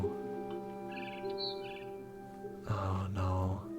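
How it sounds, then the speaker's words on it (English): A barn swallow chirps outside a window in the video game What Remains of Edith Finch, light tweets over a quiet sustained tonal background, followed by a brief louder burst near the end. "Then I heard chirping outside my window. It was a barn swallow going back to her nest."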